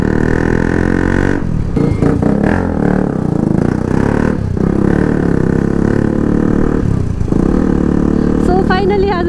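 A KTM Duke 200 motorcycle fitted with a full-system exhaust runs with a loud, steady, close engine drone and slight dips and swells in pitch throughout.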